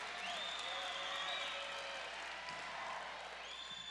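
Fans in the stands at a volleyball championship match rise into a steady, broad roar of cheering and applause that swells and holds throughout, with whistles or shouted voices poking through the dense crowd noise.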